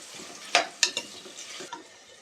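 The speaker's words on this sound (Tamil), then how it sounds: "சின்ன வெங்காயத்தை ஆயில் வந்து நல்லா ஃப்ரை பண்ணிக்கலாம்" Shallots (small onions) frying in oil in a pan, with a soft sizzle and a few sharp scraping stirs of a spoon against the metal, close and brief.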